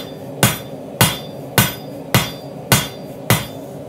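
Hammer blows forge knife steel on an anvil while shaping an integral bolster, six sharp ringing strikes at an even pace of roughly one every half second, close and loud with short decays and no talking.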